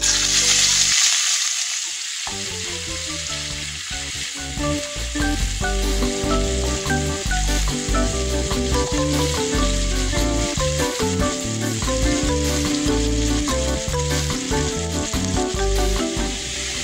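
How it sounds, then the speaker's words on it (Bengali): Chopped onion fries in oil with a bay leaf and white cumin, the oil left over from frying rohu fish. A continuous sizzle runs throughout, largely covered by loud background music. "পেঁয়াজটা ভাজা হয়ে গেছে।"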